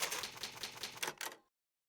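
Old typewriter in the Resident Evil video game saving progress: a quick burst of sharp mechanical keystrikes clattering for about a second and a half, then cutting to silence.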